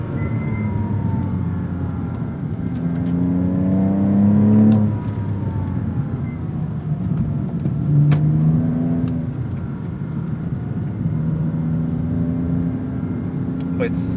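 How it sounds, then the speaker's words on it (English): Porsche Cayman S 987 driving on the road, with a steady engine and road drone running throughout. Pitch rises and falls with the gear changes, and the sound is continuous and moderately loud. "just as a comparison point to really appreciate what Bavesh has done with this car, because it's driving beautifully"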